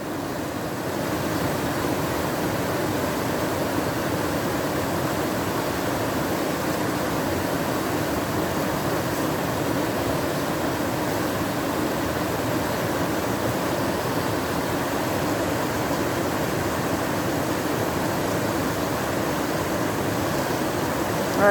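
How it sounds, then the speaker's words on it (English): Big Creek in Great Smoky Mountains National Park flows steadily, a dense broadband rush of water that holds at an even level from start to finish, close by and with no voices. "you guys can just sit and listen to the beautiful creek here."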